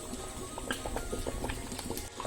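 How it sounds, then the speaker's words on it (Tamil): A pot of beetroot and potato sambar simmers on the stove, giving off soft, irregular bubbling pops and light plopping over a low, steady background hiss. "குழம்பு நல்லா 2 நிமிஷம் கொதிக்கட்டும்."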